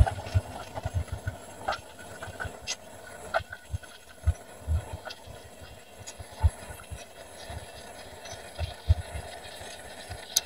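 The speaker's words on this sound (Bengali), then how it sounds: "সকালে ট্রেন ঢাকার উদ্দেশ্যে রওনা দিয়ে আলতেছে আর কি।" A morning passenger train of fourteen carriages leaves Mohanganj for Kamalapur station in Dhaka, its wheels thumping and clacking in an uneven rhythm over a low rumble. It sounds moderately close, with no talk.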